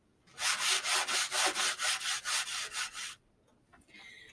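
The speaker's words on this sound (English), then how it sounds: "Just don't stop sanding while I tell it to you." Rhythmic sanding of wood, about a dozen steady back-and-forth rasping strokes, close and loud, then a pause with faint light scraping.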